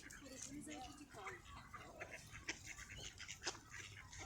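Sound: ducks quacking

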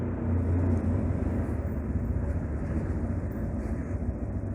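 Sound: motorcycle engine idling in parking lot

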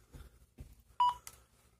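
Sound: Retevis RT36 walkie-talkie locked buttons beeping when pressed

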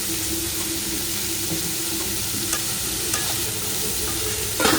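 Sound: stirring onions with salt in a pan

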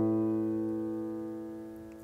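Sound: strongly dissonant musical chord

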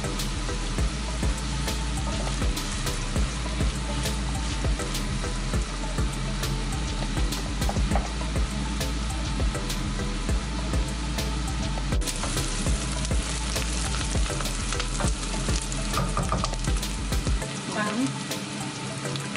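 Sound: vegetables simmering in a pan

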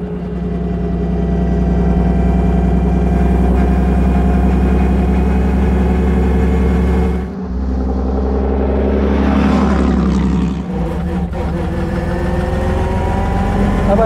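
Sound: vintage car engine idling

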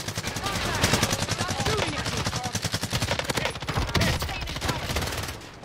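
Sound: AK rifle gunfire in the video game Warzone

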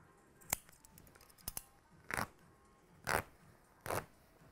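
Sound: scissors cutting apart a garment along the side seam

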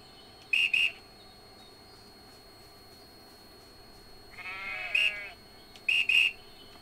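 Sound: shepherd's whistle in video game EverDream Valley

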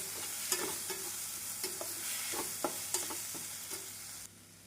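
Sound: sautéing onion, tomato and masala powder in pan

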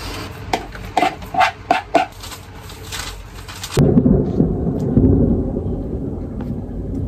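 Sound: thunder and rain

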